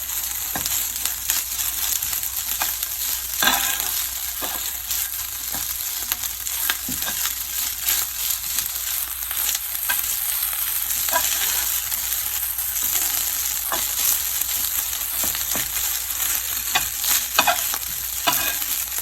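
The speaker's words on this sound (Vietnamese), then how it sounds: "mình lấy ra mình chiên nó còn sẽ tơi và sẽ ngon hơn nha các bạn" Cold rice with crab sticks stir-fried in a pan, a continuous sizzle with repeated scraping and tossing strokes of the spatula, close and steady with no talking.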